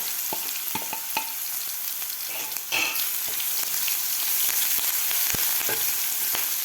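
Curry leaves and crushed green chili thecha fry in a hot oil tempering for Maharashtrian methi zunka, a constant hissing sizzle with scattered crackles and pops. A sharp burst of spattering comes midway, and the sizzle grows a little louder afterward.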